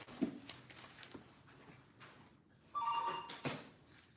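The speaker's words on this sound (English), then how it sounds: "Phone rings, the phone be ringing" A telephone rings faintly in the background during a live stream, a distant electronic bell tone that stands out briefly near the end over quiet room noise.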